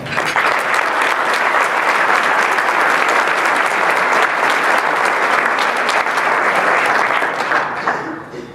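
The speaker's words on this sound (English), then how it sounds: "Please join me in giving this group a round of applause." Audience at a recognition luncheon applauds in a steady, dense roar of clapping that holds for about eight seconds, then begins to taper off at the end.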